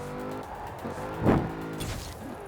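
Modded Range Rover driven in the racing game Forza Horizon 4, a steady engine drone with a brief louder surge and tire noise mid-clip, no talking.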